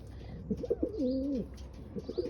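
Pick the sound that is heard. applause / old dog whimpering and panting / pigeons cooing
pigeons cooing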